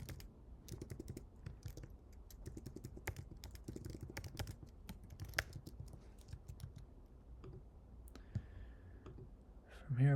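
Quiet, rapid clicking of a computer keyboard as someone types to log in, steady light keystrokes close to the microphone with a few isolated taps toward the end.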